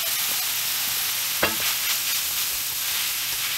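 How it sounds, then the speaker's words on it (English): Japchae noodles stir-fried in hot oil in a pan, a dense continuous sizzle with one sharp scrape of the utensil partway through, close and loud, no voices. "Get the noodles in there, and we will stir fry those for a couple minutes."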